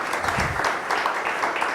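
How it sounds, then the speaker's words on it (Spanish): A church congregation applauds during a Spanish-language sermon, steady dense clapping filling the short moment at moderate volume with no talk over it. "un aplauso al Señor"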